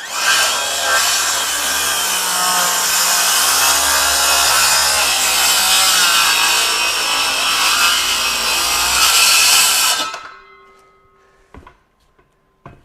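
A SKIL CR5440B 20V brushless 7-1/4" circular saw makes a 45-degree bevel cut through wood: a loud, continuous, straining cutting roar for about ten seconds, then an abrupt drop to near silence with a few faint ticks.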